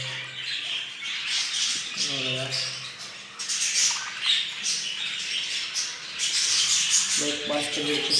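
Harsh jumbo budgerigar squawks and chatter from a nest box fill the air in bursts, with a busy background of calls and some rustling throughout.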